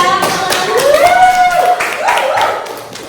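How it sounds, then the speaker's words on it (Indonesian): Students in a classroom clap together in a lively burst, mixed with voices and a rising vocal cheer that fades toward the end. "Tepuk tangan dulu ya"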